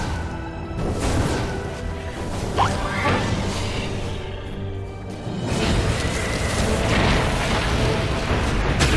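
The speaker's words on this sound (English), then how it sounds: "Cannon fire." Dota 2 pro match between 469 Gaming and GR Esports: loud cannon booms and crashing impacts burst over busy in-game battle effects, with several heavy hits in quick succession.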